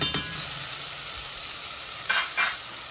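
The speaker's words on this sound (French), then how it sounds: "Je mets mes tomates dedans, tranquille." Tomatoes with thyme cook in a pot for a shrimp and eggplant dish, giving a steady close sizzle with a couple of brief stirring scrapes, and no voices.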